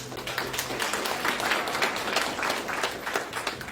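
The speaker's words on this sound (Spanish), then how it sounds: "Démosle un aplauso a los muchachos que cantaron." A church congregation applauds young singers on a Mother's Day service, a steady dense wash of many hands clapping throughout, moderately distant in a large room.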